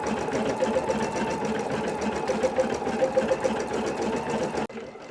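An embroidery machine stitches out a design at a rapid, even rhythm, a dense mechanical whirring and ticking that runs steadily and fairly close before stopping abruptly near the end.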